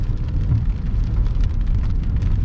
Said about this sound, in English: and yes, you are hearing rain. It is raining today.